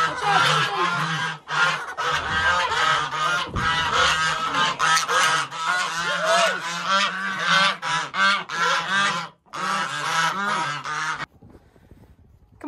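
Kept domestic waterfowl call loudly and almost nonstop in rapid, harsh honking quacks close by, building into a raucous chorus before it briefly cuts off near the end.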